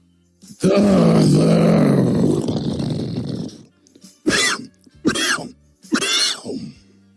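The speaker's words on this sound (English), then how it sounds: "I told you about that cough." A long, rough, groaning cough or throat-clearing followed by three shorter harsh coughs, close and loud.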